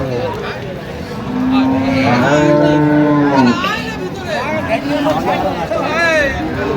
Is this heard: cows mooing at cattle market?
yes